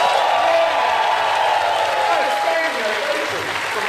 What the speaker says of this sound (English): give a powerful cheer and a huge round of applause